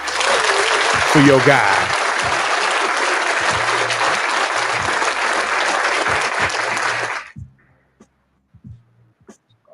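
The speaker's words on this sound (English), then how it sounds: "Give them brothers a round of applause, man." Loud, dense audience applause from a crowd during a 49ers postgame discussion, a steady roar of clapping for about seven seconds that cuts off abruptly, followed by a few brief spoken words in near silence.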